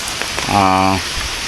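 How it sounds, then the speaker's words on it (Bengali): Heavy rain falls steadily in a dense close hiss through several days of downpour, with a brief harmonic tone, likely a voice or horn, rising over it midway. "বৃষ্টি দেখুন এখনও বৃষ্টি থামার কোনো লক্ষণ নাই"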